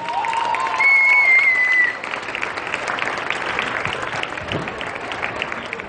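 A crowd of spectators at a school spring festival applauds with steady, dense clapping that carries on throughout, and a whistle briefly rings out early on.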